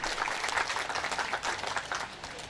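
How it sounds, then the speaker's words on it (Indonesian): Audience applause at a Muhammadiyah anniversary gathering, a dense patter of many hands clapping at moderate distance, steady for a couple of seconds before thinning slightly at the end. "Tepuk tangan untuk beliau, Bapak Ibu sekalian"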